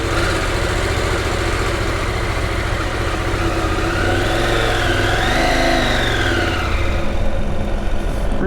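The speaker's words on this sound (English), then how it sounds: "Starting up the Norden 901 Expedition for the first time." A 2023 Husqvarna Norden 901 Expedition motorcycle, nearly new, runs steadily at idle, then its engine note rises and falls in a couple of revs before settling, loud and close with a constant mechanical drone.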